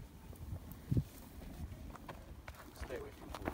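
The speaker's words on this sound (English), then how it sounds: "Stay away from the horse" A horse's hooves clip-clop on the ground in the Canadian badlands, a few uneven hoof strikes, one louder knock near the start, heard beneath people talking.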